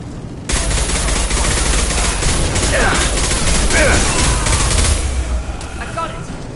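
Sustained, loud gunfire from a Mass Effect firefight between Blue Suns mercenaries and Vorcha, with dense overlapping bursts and impacts running almost the whole time, plus a few whooshing weapon sounds in the middle.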